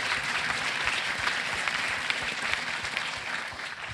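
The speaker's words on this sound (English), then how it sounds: "Cut off by clapping." Audience applause at a student-run debate symposium in northeast Switzerland, steady, dense clapping from a large crowd filling the room, heard from a distance and fading slightly at the end.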